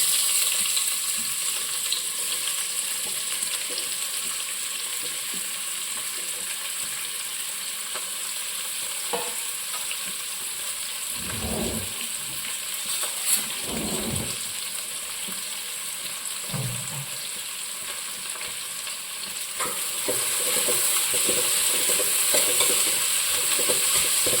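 Three medium onions sautéing in a pan for an egg curry, with a constant close sizzle and several scraping stirs of the spoon in the middle. The frying grows louder toward the end.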